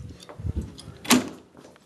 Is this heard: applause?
no